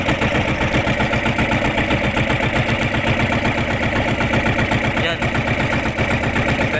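A boat engine chugs loudly and steadily at close range in a rapid, even rhythm, with a voice talking over it.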